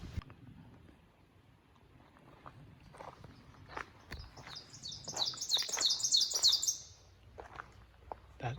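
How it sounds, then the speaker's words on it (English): Song of an ovenbird, a rare warbler, heard on a mountain hike: a bright rising chatter of repeated high notes rings out in the middle, amid soft footsteps and rustling. "That is the song of an ovenbird, a fairly rare warbler species."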